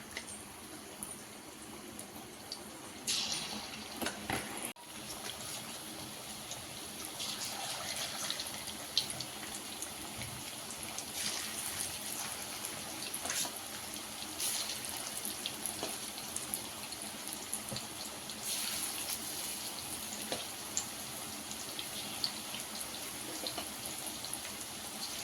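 Chicken pakoda pieces fry in hot oil for deep frying over a medium-low flame, giving a continuous bubbling sizzle with occasional sharper crackles, steady and close throughout.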